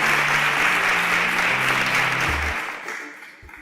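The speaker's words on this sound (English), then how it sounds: "can we give them a round of applause as they exit the stage?" Audience applauds loudly and steadily, a dense wash of clapping that holds strong for several seconds before easing off toward the end, with music chords underneath.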